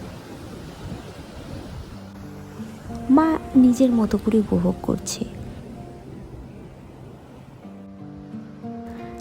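Sea waves on an Andaman beach with white sand make a steady, soft wash of surf, while a person talks briefly over it in the middle.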